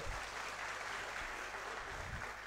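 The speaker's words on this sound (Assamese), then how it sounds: "হাত চাপৰি দিব সকলোৱে" An audience claps steadily at a ceremony handing out appointment letters to newly recruited foresters and forest guards, the applause forming an even, fairly faint wash of many hands with no break.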